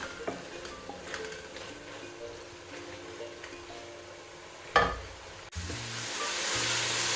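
Minced meat frying and being stirred in a pan, a soft steady sizzle with occasional scraping and one sharp clatter of a utensil partway through, then a brighter, louder hiss toward the end.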